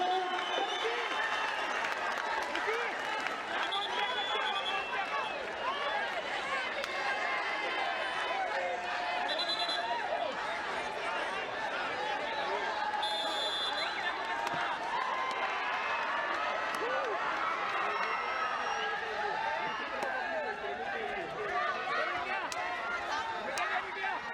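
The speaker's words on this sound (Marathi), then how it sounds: "प्रचंड टाळ्यांचा कडकडाट करूया" A crowd at the Maharashtra State Kabaddi mega final between Pune Gramin and Ahmednagar applauds loudly and without a break, dense clapping mixed with cheering and crowd noise.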